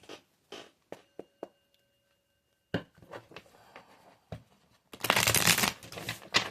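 A deck of oracle cards being shuffled by hand: sparse card taps and flicks at first, then a dense, loud riffling burst toward the end, close up.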